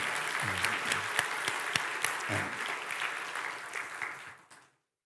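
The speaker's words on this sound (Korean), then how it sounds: "잘해서 박수 한번 쳐보세요." A church congregation applauds during a Sunday service, a dense, steady wash of clapping that carries on for several seconds with faint voices mixed in, then fades out.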